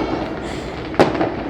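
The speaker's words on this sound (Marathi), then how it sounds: "मस्त आनंद घेऊयात या फटाक्यांचा." Firecrackers and fireworks go off amid a continuous far crackle and rumble, with one sharp, louder burst partway through.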